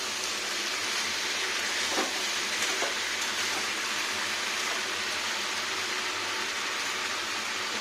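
Pumpkin and potato fry at high heat in a pan for a vegetarian dish, making a continuous dense sizzling hiss at even loudness throughout, with no talk.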